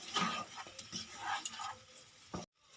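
Garam masala being stirred into a pan of bele fish jhal, soft close scraping and light sizzle over a couple of seconds, then a sudden drop to near silence.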